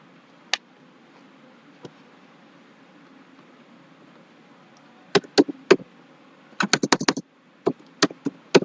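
Sparse computer keyboard typing, a couple of isolated key taps followed by quicker bursts of clicks in a quiet room, close and crisp.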